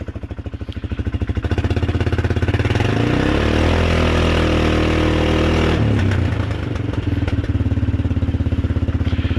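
A small engine idling fast with the choke on, a close, loud, steady chugging that rises and smooths briefly in the middle before settling back to the same throbbing idle.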